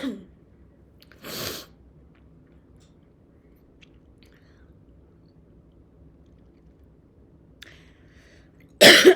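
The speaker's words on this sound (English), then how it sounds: "This cough is so annoying." Two short, sharp coughs from a person stand out against a quiet room, one early and one at the very end, separated by a long near-silent stretch.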